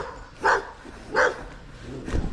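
A Labrador beside a canal gives three short barks spaced about a second apart, each fairly close and moderately loud, with quiet outdoor ambience in between and no talking.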